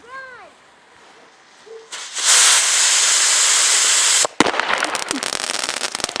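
Explosives hiss loudly for about two seconds like a burning fuse or firework, then a sharp bang and crackling as a gingerbread house is blown up, with a faint voice before.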